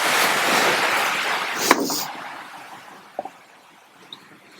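Heavy rain pours down outside, a dense broadband hiss that is loudest at first and then thins toward a softer, steady wash with a few faint taps near the end.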